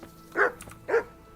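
A dog in a video game barks twice, two short, close, moderately loud woofs about half a second apart, with no talk over them.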